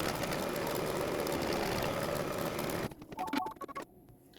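An embroidery machine running a placement line on background fabric for an in-the-hoop pillow wrap, a steady close mechanical whirr for about three seconds, then stopping with a few clicks and clunks.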